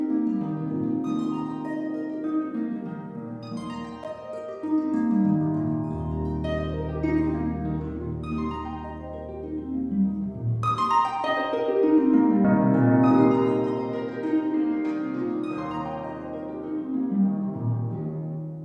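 A sampled harp library plays a continuous stream of plucked notes and arpeggios through a Berlin Studios reverb, the low strings ringing into a spacious wash for about eighteen seconds, with no voice.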